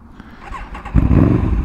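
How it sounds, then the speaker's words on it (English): An Aprilia Tuono 1100 motorcycle engine cranks briefly and then fires into a loud, close idle that holds steady for the rest of the moment. "Start the bike."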